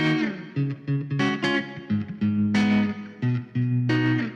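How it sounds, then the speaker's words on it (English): Electric guitar through light drive, a Deluxe Reverb impulse response, tremolo and reverb, plays short rhythmic chord stabs with gaps between them, loud and close, with no talking. "Just a bit of drive. We're going through a deluxe reverb IR, and just some tremolo and some reverb, and that's it."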